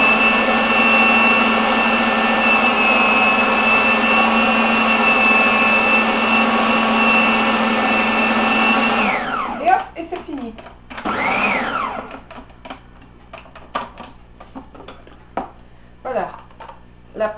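An electric mixer whirs steadily and loudly through apple cake batter, then stops, leaving only scattered clatter and brief sounds.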